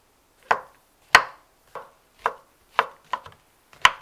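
Seven sharp knife chops on a cutting board, shiitake mushrooms and vegetables being finely minced, spaced unevenly and close up with no voices.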